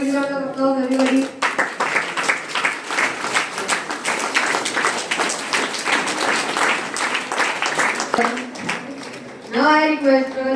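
An audience applauds at a school investiture ceremony, with loud, sustained clapping for several seconds and a voice speaking over it at the start and at the end.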